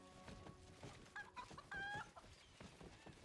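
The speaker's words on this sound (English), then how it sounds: "Everywhere I go now, even if we're in like the depths of the 9 hells, we will still hear chicken noises" A chicken clucks in the video game Pathfinder: Kingmaker, a few short squawky calls near the middle, heard over a low game background with no talking.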